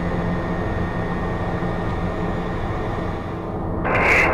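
A JetPROP turboprop aircraft engine runs steadily at the departure end of a runway before takeoff, a loud continuous drone with a rising high whine near the end; no one speaks.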